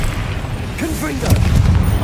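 A Confringo blasting spell goes off in Witch Simulator 2023 with a single deep booming burst about halfway through, rolling low over a steady rumble, while a voice sounds faintly beneath.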